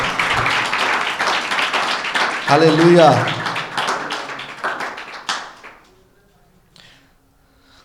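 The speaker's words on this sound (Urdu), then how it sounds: "یسوع مسیح کے لیے تالیاں بجائیں اور تھوڑے جاگ جائیں." Congregation at a Christian marriage teaching seminar clapping hands, a dense burst of many claps together under a man's speech, fading out toward the end.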